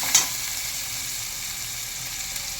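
Ground cumin and coriander sauté with turmeric in a pan, giving an even, fairly quiet sizzle that holds steady, with a single sharp clink near the start.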